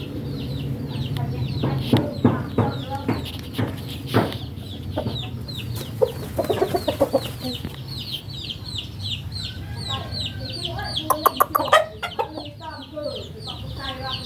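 Burmese fighting roosters cluck and call repeatedly at close range in a rural village, with someone talking over them and occasional rustling and flapping.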